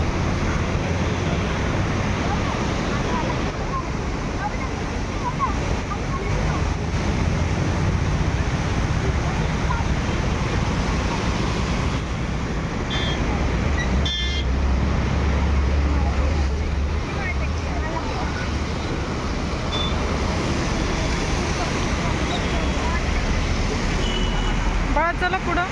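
A swollen monsoon river in Pune rushes past beneath an old bridge, a broad, steady roar of water under light rain, continuous and close with faint background traffic.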